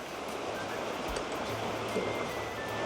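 Steady, dense rush of river water flowing at Sheep Creek, continuous and close with no pauses, covering the whole stretch without any voices.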